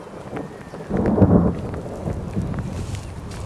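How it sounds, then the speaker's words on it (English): Thunder rumbles during a heavy storm, one close swelling boom with rain and wind noise around it, loud and without voices. "The thunder and the lightning was just crazy."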